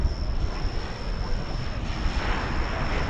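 American Airlines flight arriving from McAllen, Texas, landing at DFW Airport, a broad steady engine roar heard from a distance with some wind rumble and no voices.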